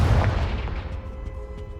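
Confringo fire spell in Hogwarts Legacy lands as a heavy booming blast, loud up close, then trails off into rumbling debris and a few smaller pops.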